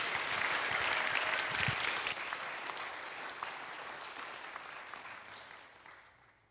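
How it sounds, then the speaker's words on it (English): Sustained applause from a church congregation at a Sunday service, dense steady clapping that stays loud before thinning out and fading at the end. "as we give them a big round of applause."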